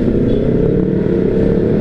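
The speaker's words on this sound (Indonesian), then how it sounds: "Matic pakai racing, knalpot racing" An automatic scooter-style motorcycle fitted with a racing exhaust drones loudly and steadily nearby, a rough, throaty exhaust note holding a constant pace without clear revving.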